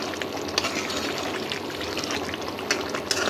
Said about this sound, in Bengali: তো আরেকটু ঝোলটা আমি টানাবো, আসলে আরেকটু টানালে ভালো লাগবে আরেকটু।